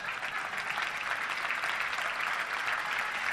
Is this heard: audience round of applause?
yes